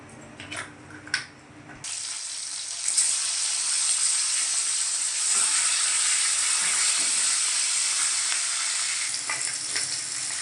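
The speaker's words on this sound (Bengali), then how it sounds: "দেখুন মাছগুলো ভাজা হয়ে গেছে মাছের মাথাটা এবার তুলে নিচ্ছি" Katla (catla) fish heads fry in hot oil in a wok, a steady loud sizzle that jumps in after a brief quieter start with a few clinks, then holds continuous and close for the rest.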